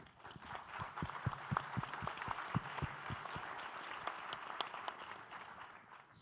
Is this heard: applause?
yes